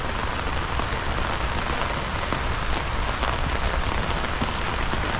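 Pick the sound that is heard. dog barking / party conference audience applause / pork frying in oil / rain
rain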